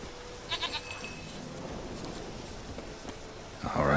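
Goat in The Witcher 3 video game giving a brief bleat early on over soft wind ambience, followed by quiet stretches and a louder rustling burst at the end.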